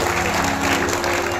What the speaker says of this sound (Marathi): एकदा या सगळ्यांचं टाळी वाजून अभिनंदन करू